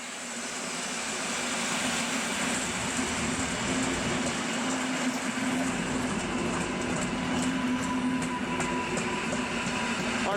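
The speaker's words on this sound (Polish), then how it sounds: "jedzie kolejny pociąg tym razem koleje mazowieckie do Pilawy EN57 1646" A Koleje Mazowieckie EN57 electric multiple unit bound for Pilawa rolls past with a steady broadband rumble and rail noise, a faint motor whine and light clicking of wheels, sustained and fairly close.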